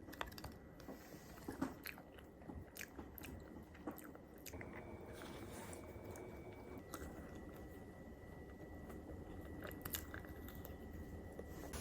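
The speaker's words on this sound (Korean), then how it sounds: "단호박 먹을 때가 제일 좋아." Someone chewing sweet kabocha pumpkin up close, with soft wet bites and squishy mastication going on steadily and quietly for several seconds, without talk.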